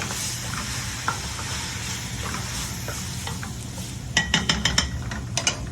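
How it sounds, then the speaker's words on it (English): Crushed tomato being stirred in a sizzling pot for seafood bouillabaisse, a steady hiss with a cluster of sharp utensil scrapes and clinks against the pot toward the end. "I'm going to add a little crushed tomato, half a can. We'll stir that around."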